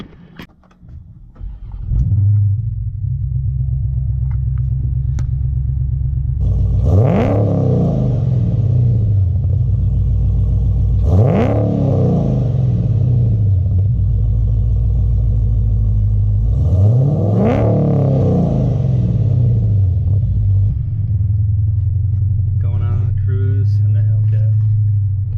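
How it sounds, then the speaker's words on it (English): A heavily modified Dodge Hellcat drives along with a steady, loud engine drone heard from inside the car, broken by three hard acceleration pulls whose rising whine swells and fades. "just listen to it, and hear the supercharger whine"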